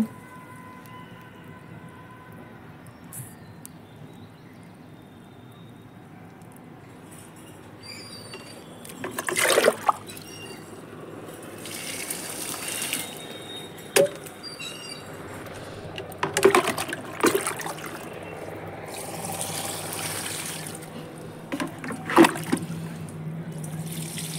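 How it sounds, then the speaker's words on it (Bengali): Water is poured over potted garden plants, including a gardenia, arriving as intermittent splashing and trickling bursts against a steady low background. "তার আগে আমি গাছে একটু জল দিয়ে নেব"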